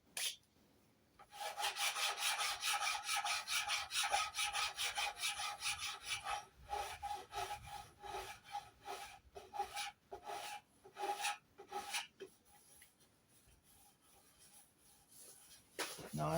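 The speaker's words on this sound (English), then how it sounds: "Flat file, flat file," A flat file rasps over the wooden headstock of a Telecaster guitar kit in steady back-and-forth strokes, a continuous scraping that turns choppier and briefly pauses near the end.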